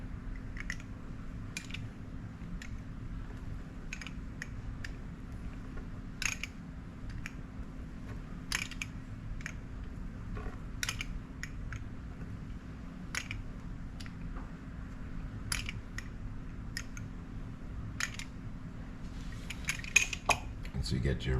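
A pizza cutter rolls through soft garlic bread dough with repeated light clicks and scrapes against a board, close and fairly quiet over a steady low background hum.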